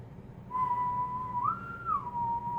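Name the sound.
whistled imitation of a repeated tune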